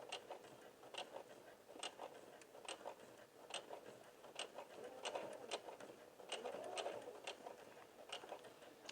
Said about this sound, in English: I'm sewing at a slower speed because I'm sewing through so much bulk